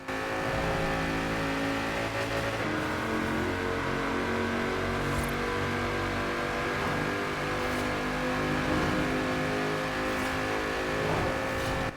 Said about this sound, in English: we'll go into the tunnel, and I'll let you have a listen to how it sounds